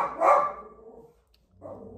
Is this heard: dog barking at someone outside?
yes